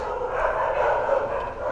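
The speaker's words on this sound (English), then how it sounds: "Shut up, dogs." Dogs bark and yip in a steady, loud burst over a busy background, with a voice faintly mixed in.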